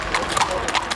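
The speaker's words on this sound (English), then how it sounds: "The horses led the search this time for 3-year-old Michael and 14-month-old Alex Smith" Horses' hooves clip-clopping on hard ground during a search for missing children, a steady rapid rhythm of several hoofbeats under a news reporter's voice.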